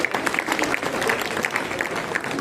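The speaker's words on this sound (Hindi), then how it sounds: "जोरदार तालियों से सर का स्वागत कीजिए" An audience at a Hindi fortnight closing ceremony welcomes a guest to the stage with loud, continuous clapping, close and dense throughout, with a little talk mixed in.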